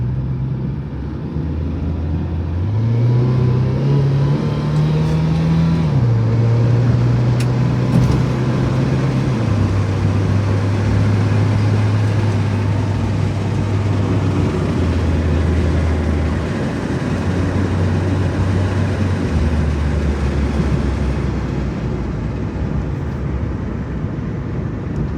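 Nissan Pike car cruising smoothly with a steady low engine drone whose pitch shifts as it changes speed, over constant road and tyre rumble, loud and continuous throughout with no talking.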